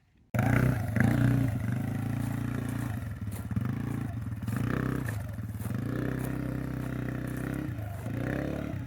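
A 2024 Can-Am Renegade 110 XXC youth ATV engine starts up abruptly and runs steadily nearby, a loud buzzing drone with small throttle swells and no talking.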